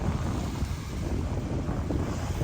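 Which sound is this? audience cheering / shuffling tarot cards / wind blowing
wind blowing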